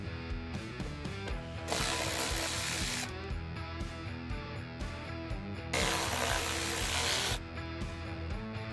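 Under the A-pillar covers of a Ford Super Duty truck cab, a ratchet tool clicks rapidly through repeated bursts of pawl ticking, broken by two louder, hissing spells of cranking that are close and fairly loud.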